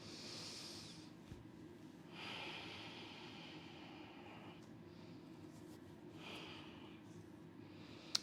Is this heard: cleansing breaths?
yes